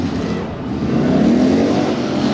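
Two tough trucks race side by side around a dirt track at Bloomsburg, Pennsylvania, their engines a loud, continuous roar that climbs slowly in pitch as they accelerate past nearby.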